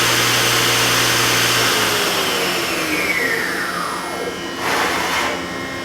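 A Hitachi Seiki HT23SIII CNC lathe runs loud and close, a steady mechanical whine that drops away as the spindle slows, then a brief rising and falling sweep near the end.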